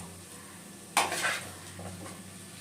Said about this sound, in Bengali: এবার আমি তরকারিটা এই পাত্রে তুলে নেব।